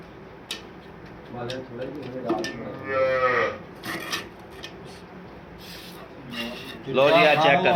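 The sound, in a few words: cattle mooing, cow and newborn calf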